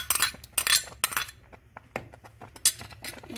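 A spoon mixing semolina cake batter with jam in a bowl, quick clinking and scraping strokes in bursts against the bowl, close and fairly loud, no voices.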